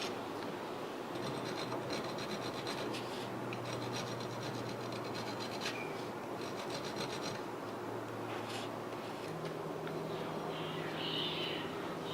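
A hand file rasping against the steel trigger guard of a 1911 pistol frame, a continuous close gritty scraping of steady strokes running throughout, fairly quiet with no talk.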